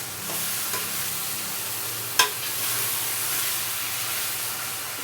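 Cashews and garlic sautéing in hot oil for a brinjal and coconut milk dish: a continuous close hiss and crackle, with one sharp clack near the middle.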